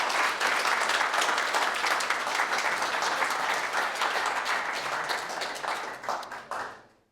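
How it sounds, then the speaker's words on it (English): Conference audience applauding the speakers after a data orchestration masterclass: dense, steady applause from a sizable crowd, loud and sustained for several seconds before tapering off abruptly at the end. "can I get a big round of applause for our speakers?"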